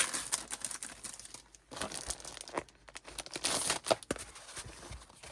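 Paper and cardboard packaging from a mystery box of paper crafting supplies crinkles, rustles and tears in irregular close bursts while the box is being opened.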